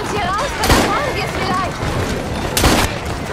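Gunfire in the video game Assassin's Creed Syndicate, two loud broadband shots about two seconds apart over a continuous noisy game soundscape, with some shouting or voice-like sounds in the mix.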